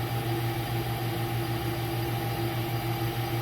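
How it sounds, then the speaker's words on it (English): A turbocharged 2.7-litre Ford F150 engine with a misfire idles, heard through the intake as a muffled, steady drone with a constant low hum and no change in pace. "You can listen through the intake. Now this is a turbocharged engine, so this will be muffled."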